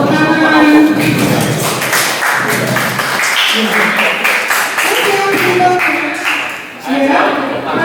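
A classroom group claps after a teacher's lesson on Indonesian culture and Chinese acculturation, the taps loose and uneven over several seconds, mixed in with talking.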